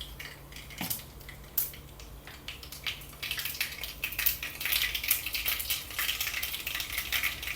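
A teaspoon of mustard seeds goes into hot oil in a pan: a few light clinks, then a soft crackling sizzle that builds into steady, fine popping.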